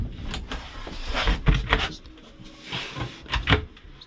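A cutlery drawer slides open in a 2014 Auto Trail Imala 615 motorhome. It gives several close, sharp knocks and rattles with a soft sliding rumble between them.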